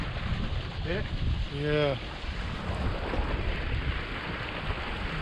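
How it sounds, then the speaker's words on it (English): Wind gusts across a Wayfarer sailing dinghy out on the water, a steady blustery roar on the microphone with water wash beneath, while a voice briefly answers and a faint tonal call rises and falls early on. "I can feel the wind picking up again now"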